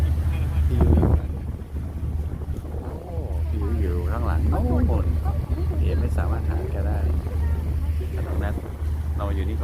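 Steady wind rushes and buffets across the deck of a boat heading toward Odaiba in Tokyo, with engine rumble underneath and a voice talking over it throughout.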